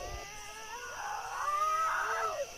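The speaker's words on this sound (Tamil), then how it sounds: "அது பூனையாக தான்டா இருக்கும்." A cat meows in a drawn-out, wavering cry that rises and falls over a couple of seconds, fairly quiet and distant against a faint background hum.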